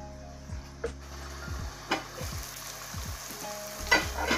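Wax gourd slices frying in a pan, a steady close sizzle and crackle with occasional utensil clinks and stirring knocks, and no talking.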